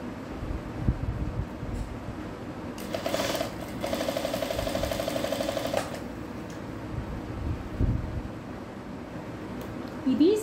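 Sewing machine stitching a blouse, short bursts of rapid mechanical clatter separated by pauses, fairly close, with a voice speaking around the runs.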